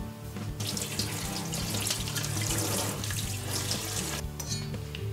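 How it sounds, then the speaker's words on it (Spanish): Tap water runs steadily under a kitchen faucet while pak choi leaves are rinsed, making a continuous close splashing wash with brief changes as the leaves move through the stream. "separamos las hojas y las lavaremos bien debajo del grifo."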